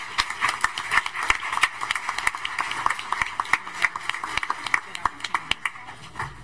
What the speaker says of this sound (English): join me in giving them one more round of applause